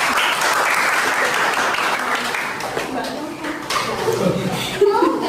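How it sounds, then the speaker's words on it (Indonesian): An audience claps steadily for presenters at a hospitality service class presentation, loud at first and then thinning out as voices and light laughter take over. "terima kasih untuk Mbak Nova dan Mbak Sela, bisa beri tepuk tangan."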